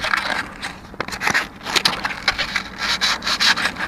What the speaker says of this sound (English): So I'm gonna clean this up first. I still got my old trusty 220 grit sandpaper